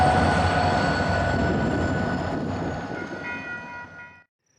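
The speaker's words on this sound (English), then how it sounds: "Norfolk Southern down through Binghamton on the old Erie-Lackawanna line that was originally an Erie line." A Norfolk Southern train rolls through Binghamton on the old Erie-Lackawanna line, a loud, steady rumble with faint metallic ringing that slowly fades before cutting off.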